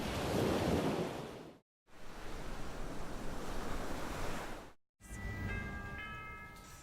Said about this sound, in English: even more impressive waves that crash onto 90 miles of coastline